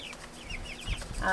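Farm chickens give short, soft clucks and a brief rising call, close by and quiet, ending in a louder squawk.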